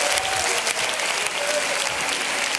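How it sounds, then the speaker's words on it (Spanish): A studio audience breaks into loud, sustained applause for a guest, many hands clapping at once with some crowd noise and a voice briefly audible over it. "Fuerte aplauso para él."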